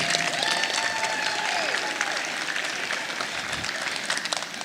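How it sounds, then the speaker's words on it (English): A crowd at a youth poultry show applauds young exhibitors with sustained, dense clapping that runs steadily through the whole stretch, loud and close with no pauses. "So give them a round of applause."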